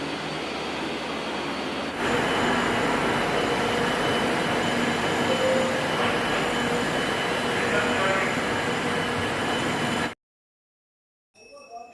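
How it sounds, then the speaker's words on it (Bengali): A Kolkata metro Yellow Line train pulls into a station with a loud, steady rumble and hiss for about eight seconds after a quieter start, then stops abruptly into silence. "নোয়াপাড়া যাওয়ার ট্রেন এসে গেছে।"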